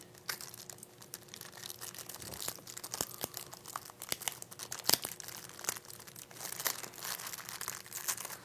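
Packaging for a Fujifilm battery charger, accessory to a 2012 Fujifilm XF1 camera, being opened and unwrapped: continuous close crinkling and crumpling of plastic and paper with sharp tearing snaps throughout, no talking.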